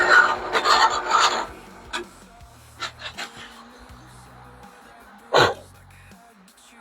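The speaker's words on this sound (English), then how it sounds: "we're just going to drill that down to really the depth of this Forstner bit" A burst of rough, grinding drilling into wood with a Forstner bit at the start, followed by scattered scrapes and knocks, then a short loud rasp near the end.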